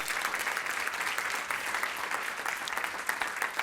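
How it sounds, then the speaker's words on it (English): Steady audience applause fills a conference room throughout, dense continuous clapping from a seated crowd, with no voices rising above it. "can I get a round of applause for Nina?"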